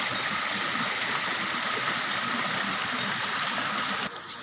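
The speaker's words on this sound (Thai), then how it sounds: "น้ำตกจำลองครับ ด้านล่างเป็นปลาคาร์ฟ" An artificial waterfall pours into a carp pond at a temple garden, producing a steady, dense rush of splashing water that holds constant and then drops abruptly in level near the end.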